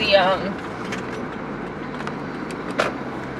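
Interior road noise of a car in motion, a steady low rumble heard from inside the cabin, with a brief voice and a couple of small knocks over it.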